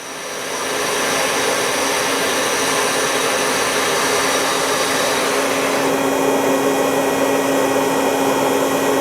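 Gang tooling on a 2004 Citizen M-20III Swiss-type CNC lathe spins up at high speed, a loud, steady broadband whir with a sustained tonal hum that rises slightly partway through and holds without breaks.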